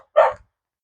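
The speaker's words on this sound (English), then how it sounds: "Sorry, guys, that's my dog." A pet dog gives a single short bark nearby, indoors, with silence before and after it.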